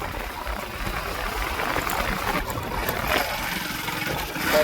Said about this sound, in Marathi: बाईक चालू